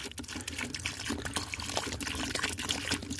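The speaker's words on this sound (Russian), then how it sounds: "Заливаем водичкой." Water is poured steadily onto raw clay in the wild to mix it for pottery, giving a continuous splashing trickle at close range with no voices.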